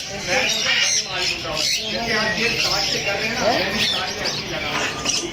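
Mynah birds squawk and chatter loudly and repeatedly at a busy bird market, harsh calls overlapping with crowd noise and people talking nearby.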